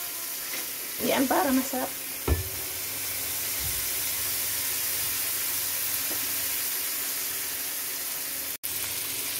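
Scallops stir-fry in a pan with celery, black fungus and chili, a steady low sizzle and hiss running throughout, with a brief burst of utensil stirring and clatter early on while a voice speaks briefly over the cooking.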